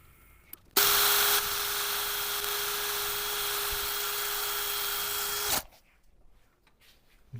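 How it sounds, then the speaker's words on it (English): An electric drill fitted with a sanding pad runs steadily for about five seconds while finishing a woodturned piece, giving a loud, continuous whine that cuts off abruptly. "at the end I'm just going to swap over to a pad and do it mechanically with a drill"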